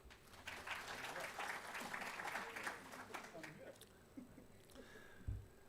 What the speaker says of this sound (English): Please join me with a round of applause in welcoming Mr.